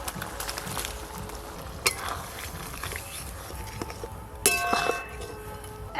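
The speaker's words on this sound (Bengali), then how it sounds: "এবার ভেজে রাখা চিংড়ি মাছগুলো দিয়ে দেবো।" Fried prawns tipped into a boiling gravy in a pan for a prawn malaikari, giving clanking metal-on-pan hits and clinks over a steady bubbling simmer, with a sharp burst of clattering toward the end.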